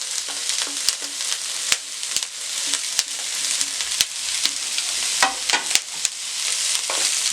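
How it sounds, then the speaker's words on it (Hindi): Vegetables with green chilli and spring onion stir-fry in a hot pan, a steady bright sizzle running throughout, broken by frequent sharp clicks and scrapes of a utensil stirring the mix. "और हल्का सा इनको फ्राई कर दें।"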